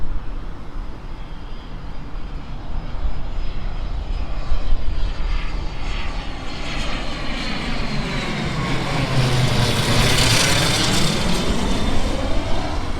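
A Cirrus SF50 jet coming in to land at West Palm Beach, its engine roar loud and steady throughout, with a rising, sweeping whine as it passes nearby and swells toward the end.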